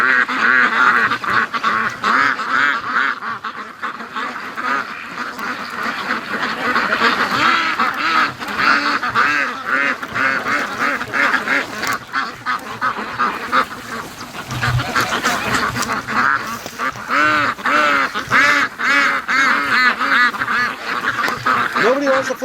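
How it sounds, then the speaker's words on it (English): Ducks quack loudly and continuously through the whole stretch, a dense near chorus of many birds outdoors on a foggy morning, with a person's voice talking among them. "Come on, ducks."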